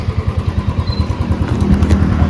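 A motorcycle running close up, its engine throbbing in a rapid regular pulse that holds steady and grows slightly louder, with no talk over it.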